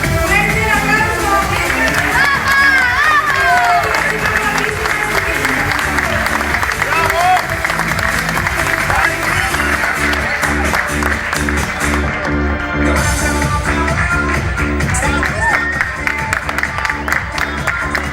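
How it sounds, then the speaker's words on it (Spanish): Applause from spectators at the Canary Ironman race weekend in 2011, a steady dense patter of clapping under loud music and cheering voices throughout. "Fuerte el aplauso."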